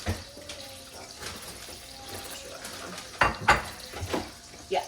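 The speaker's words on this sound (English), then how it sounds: "This calls for 2 cups of broth, so I'm gonna add 2 cups of water" Two cups of water being poured into a pan on the stove while cooking Swedish meatballs, a soft steady splash with a few louder clanks of cookware near the end, no talking.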